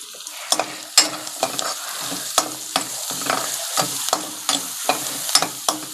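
Gongura paneer curry with salt and turmeric fries over a low flame, stirred in quick repeated strokes: rhythmic, close scraping pulses roughly every half second over a soft, constant sizzle.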